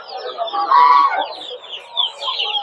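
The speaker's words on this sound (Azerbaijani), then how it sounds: "Qəşəng iri xoruzlar var, toyuqlar var." Roosters and hens cluck continuously at a busy poultry market, with large roosters among the birds, the calls close and fairly loud against faint crowd murmur.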